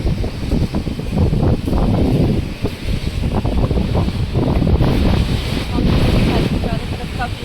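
Cold mountain wind at Manikaran roars and buffets the microphone in loud, continuous gusts with rumbling low-end bursts, and a voice can be heard underneath.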